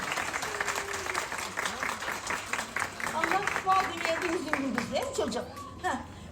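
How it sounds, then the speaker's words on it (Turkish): A festival crowd at a traditional wedding food festival in Muğla claps for an elderly woman, with moderate applause that rises and falls over a few seconds, mixed with children's voices and chatter. "Alkış alalım babaanneye."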